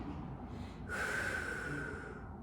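A deep, forceful exhale during a Pilates core exercise at home: a rushing breath swells in the middle of the clip and fades away, close and fairly loud.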